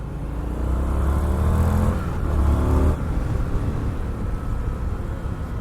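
A 2020 Indian FTR 1200 S Race Replica motorcycle engine rumbles deep and loud up close, swelling as it revs and then easing back to a steady throb, with no talking.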